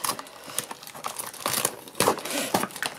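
Blind bag toy packaging is ripped and torn open by hand, a run of close crinkling, tearing crackles and sharp plastic rips in uneven bursts.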